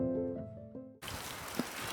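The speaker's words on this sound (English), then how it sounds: "It's raining and it's quite windy, if you can hear that on camera." Rain falls with wind outside an old farmhouse on a cold, cloudy day, heard as a steady broadband hiss that starts abruptly after a second of low tonal hum.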